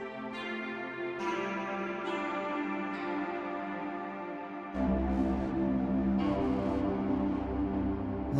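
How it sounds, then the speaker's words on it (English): Distorted synth tones from the Stray Light sound pack in Kompose Audio's Soulplay for AudioModern SoundBox on iPad, sustained gritty chords with a changing note partway through and a heavier, louder bass entering near the end. "Nice bit of distortion in there."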